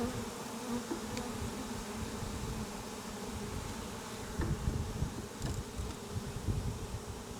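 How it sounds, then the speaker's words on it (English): Dense, constant buzzing of many bees swarming up close at a top bar hive, a low droning hum with no pauses. "Now these bees are going to be trapped here on the top"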